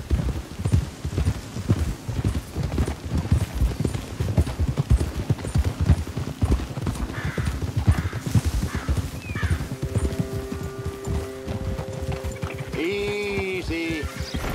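Hooves clip-clop steadily on a horse in Red Dead Redemption 2, a continuous rhythmic trot with a brief whinny-like tone and a few chiming mechanical tones near the end.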